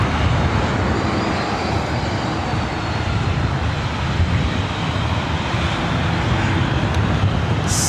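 Boeing 737-800 jet, 17 years old, roars loudly and steadily close by at LAX, a broad continuous engine rumble with wind buffeting, no voices.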